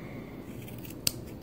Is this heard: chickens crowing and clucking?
no